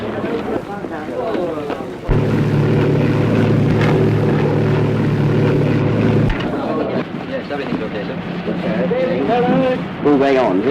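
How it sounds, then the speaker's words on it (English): Engines of a WWII Lancaster bomber drone loudly as the heavy plane wheels about before takeoff, a thick multi-engine hum that swells to a steady roar for several seconds, with a narrator talking over it before and after. "As the huge planes wheel about for the takeoff"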